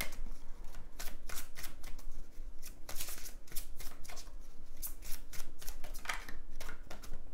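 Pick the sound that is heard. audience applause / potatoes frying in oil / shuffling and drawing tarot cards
shuffling and drawing tarot cards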